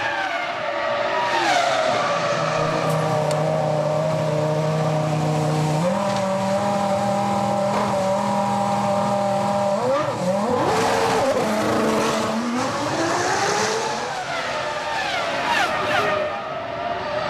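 Rubens Barrichello's Ferrari Formula 1 car at the 2005 Australian Grand Prix, its engine whining near at a steady pitch for several seconds, then shifting and rising and falling as it moves on through pit lane.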